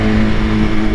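BMW S1000RR 200 hp sport motorcycle engine running at a steady, close, loud drone with a sustained low hum and no break across the second, no talk over it.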